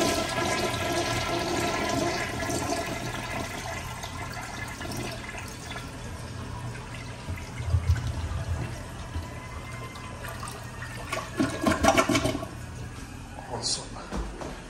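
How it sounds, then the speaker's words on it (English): A vintage American Standard toilet in a Long John Silver's restroom in Roanoke flushes with a strong, steady rush of water, surging louder near the end, with faint voices in the background. "These have great flushes."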